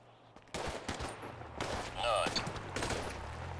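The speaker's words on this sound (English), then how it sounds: "Why is there shooting, brother?" Gunfire in the GTA 5 video game, a burst of several shots mixed with other game sounds and excited voices talking over it.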